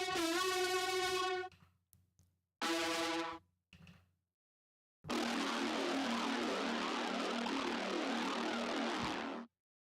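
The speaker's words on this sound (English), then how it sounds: "It's just a really kind of like a Reese bass is what I said." A Reese bass synth preset plays detuned, buzzy sustained bass notes in short phrases, loud and alone, followed by a longer dense droning stretch of several seconds.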